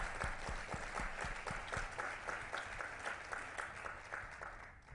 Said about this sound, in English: Please join me in giving a round of applause and appreciation for the important work.